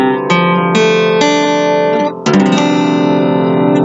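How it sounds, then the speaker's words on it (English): An acoustic guitar in D standard tuning strums several full, ringing chords one after another, with a brief pause before the last chord rings out. "D standard, to clarify, sounds a bit like this."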